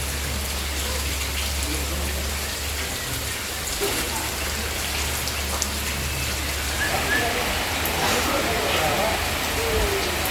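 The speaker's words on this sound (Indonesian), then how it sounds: "tetapi kita tidak sangka akan terjadi hujan" Steady rain falling near Tumpak Sewu waterfall in Lumajang, Indonesia, a dense continuous hiss of drops on surfaces all around, close and fairly loud, with a low rumble underneath.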